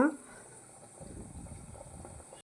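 A pot of white brinjal kurma with masala and added water bubbles softly on the stove, a faint, steady simmering patter that stops abruptly near the end.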